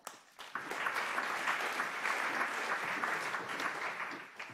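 Audience applause at a road safety innovation award ceremony, a sustained dense crowd clapping that starts abruptly and holds at an even, fairly loud level throughout.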